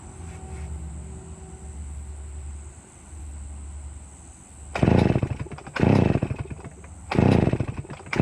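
A Stihl 041 chainsaw, fuelled through the carburetor, fires and roars in three loud close bursts separated by short gaps, over a steady low background hum.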